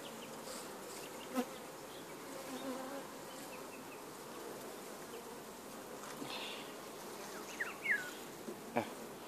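Honey bees buzz steadily around an open hive during artificial swarm work, a dense continuous drone with a few sharper individual bees passing close near the end.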